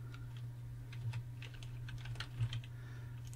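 Close, quiet clicking of keys on a computer keyboard as a short word is typed into a browser address bar. The keystrokes come in an irregular run over a steady low electrical hum.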